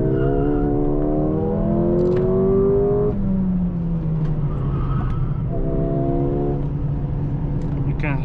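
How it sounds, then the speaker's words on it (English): A Mercedes A35 takes corners hard, its tires squealing in long rising and falling tones over the steady engine drone, with a second squeal after a brief break; talk is heard alongside. "You can hear the tires squealing."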